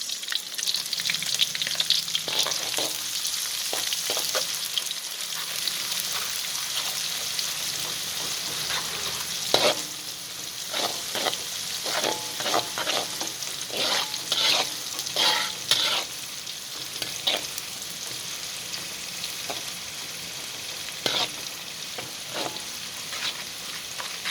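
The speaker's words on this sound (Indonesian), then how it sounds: "Ini ngarepe ngeseng-ngeseng kangkung guys. Kangkung terasi guys." Water spinach with shrimp paste is stir-fried in a pan, a steady sizzle carrying throughout while a utensil scrapes and clatters in irregular bursts, close up and without speech.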